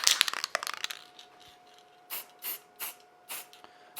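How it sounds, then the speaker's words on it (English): Scan spray hisses onto shiny coins ahead of 3D scanning, after clattery handling sounds at the start: several short, evenly spaced aerosol bursts, close and moderately loud, with no one speaking. "because they are shiny, make sure you put some scan spray on them"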